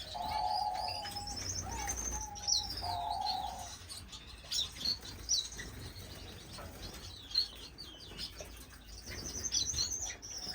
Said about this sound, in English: I love these little guys, grass mouse finch.